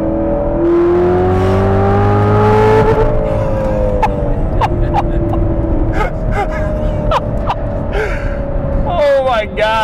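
A loud Chevrolet Corvette ZR1 engine revs and accelerates, rising in pitch through the gears with brief shifts, close and continuous, with a gasp near the start.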